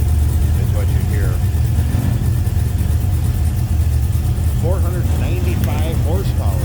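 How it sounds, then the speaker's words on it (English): A 495-horsepower Chevrolet LS3 V8 idles steadily in a 1956 Chevrolet Bel Air Nomad, its low mechanical hum continuous and close, with the hood buzzing faintly and voices talking over it. "Getting a little vibration from that hood is what you hear"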